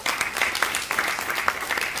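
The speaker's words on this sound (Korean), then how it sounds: "박수 부탁합니다" Brief applause from an audience at a World Couples' Day ceremony held at the National Assembly, a quick ripple of scattered clapping lasting about two seconds, fairly soft and somewhat distant.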